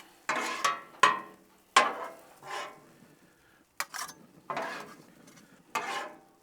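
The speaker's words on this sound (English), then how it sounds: "So we're just going to mix all this together now." Steak, egg and cheese being mixed together with a spatula on a Blackstone griddle, heard as several sharp metallic scrapes and clanks with short quiet gaps between them, close and fairly faint.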